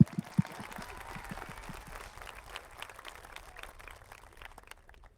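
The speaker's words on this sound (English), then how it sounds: "Round of applause for them." Audience at a Minisink Valley high school graduation ceremony applauding the graduates, a moderate, steady patter of clapping with a few sharp claps near the start, fading toward the end.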